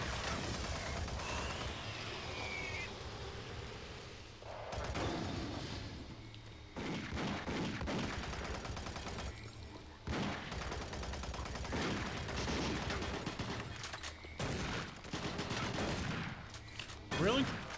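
Sustained rapid gunfire from a machine gun in the game Doom 3 BFG Edition, with dense bursts and heavy impacts. Near-constant volume runs through most of the stretch, with brief gaps between volleys.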